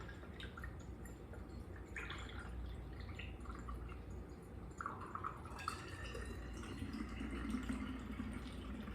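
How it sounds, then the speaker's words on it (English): Homemade clove and cinnamon mouthwash, strained, is poured into a jar, a soft trickle and dripping of liquid that grows into a steadier filling sound toward the end, faint and close. "Pour it in my jar."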